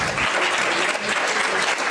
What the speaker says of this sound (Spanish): Conseguí ayer que hasta los periodistas le aplaudieran en su primera rueda de prensa en el Parlamento Europeo